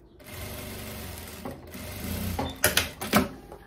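A sewing machine runs a seam on a striped linen dress, a steady mid-volume whir for a couple of seconds, then a few sharper bursts as the stitching stops and restarts.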